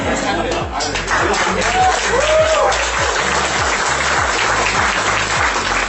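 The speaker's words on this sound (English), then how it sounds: "I want Kevin to walk back into the thunderous applause he deserves." An audience applauds with thunderous, rapid clapping that holds steady for several seconds, while voices call out over the crowd.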